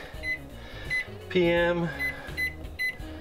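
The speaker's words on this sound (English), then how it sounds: "Oh, that's a beautiful sound. We have a microwave" A repaired RV microwave oven gives a short electronic beep, with a longer tone in the middle, while a person talks over it nearby.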